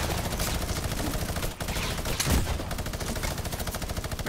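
Rapid bursts of gunfire in Fortnite crackle almost continuously, a dense volley of shots with a brief lull partway through.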